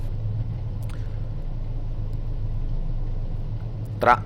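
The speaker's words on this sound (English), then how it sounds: "Engines are revving" Race car engines rev on the Spa circuit in a racing video game, heard as a steady low drone and rumble that holds evenly throughout, with a brief louder burst right at the end.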